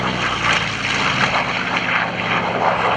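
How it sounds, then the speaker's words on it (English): An F4U Corsair warbird's piston engine and propeller roar loud and steady as it flies an inside loop at a World War II weekend air show, the drone pulsing slightly in pitch. "Chad Boyd designed the Corsair you're seeing, with Stan Musick performing an inside loop"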